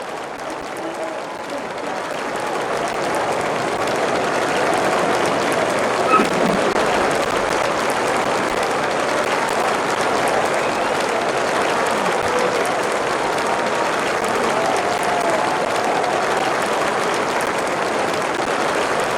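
Applause fills the stadium in the Don Bradman Cricket video game as a crowd gathers before play, a steady sustained wash of clapping and crowd murmur that holds at an even level throughout.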